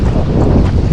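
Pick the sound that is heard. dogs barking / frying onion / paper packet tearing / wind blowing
wind blowing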